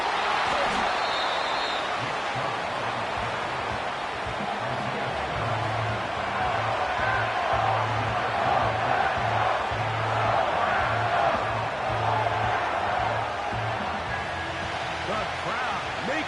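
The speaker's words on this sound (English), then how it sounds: "The crowd making their presence felt." Stadium crowd at an NFL game between the Packers and Dolphins, a dense continuous roar filling the background under a commentator's talk.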